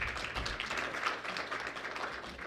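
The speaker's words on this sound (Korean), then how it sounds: "다시 한번 큰 박수 부탁드리겠습니다." An audience claps at a business technology festival event after a keynote talk, a dense, even patter of many hands that continues without a pause. It sounds fairly quiet and distant, and no one is speaking.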